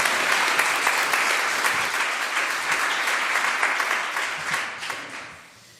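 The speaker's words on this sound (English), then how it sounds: "Please let's give him a warm applause." Warm audience applause for a speaker at a tenth-anniversary jubilee event. Dense, even clapping from a crowd fills the whole stretch and gradually tapers off toward the end.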